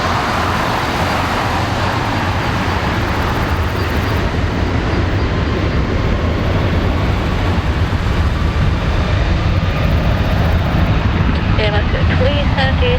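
Air Canada Airbus A330-343X jet taking off from Narita airport in summer, a steady loud broadband roar that holds throughout, with faint radio chatter in the background.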